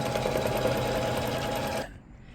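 An embroidery machine stitching an in-the-hoop box bag, running with a steady rapid mechanical whir close up, loud and continuous, then stopping abruptly near the end and leaving a quiet room.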